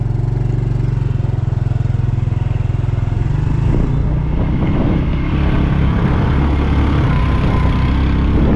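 A motorcycle engine labors and revs steadily, climbing a steep mountain road with two riders on the Ha Giang Loop, Vietnam, with a mechanical clatter throughout and a gear change partway through.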